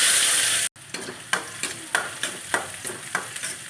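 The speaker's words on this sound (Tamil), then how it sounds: "இந்த வெங்காயத்தை போட்டு நல்லா பொன்னிறமாக வர்ற வரைக்கும் வதக்கணும்" Onions fry in sesame oil until golden for a potato fry, giving a bright continuous sizzle. After a brief cut, a spoon stirs in a regular rhythm of soft scrapes over the hiss.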